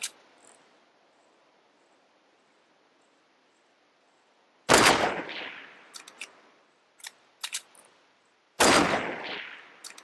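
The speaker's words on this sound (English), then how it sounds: "he knows I'm shooting" Gunfire in Fortnite: Battle Royale comes as two loud close shots, each with a lingering decay, separated by a spread of quieter, clipped shots.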